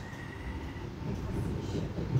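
Local commuter train travelling from Portici toward Napoli Gianturco, heard from inside as a steady low rumble of running gear with a faint squeal and rising intensity, no speech.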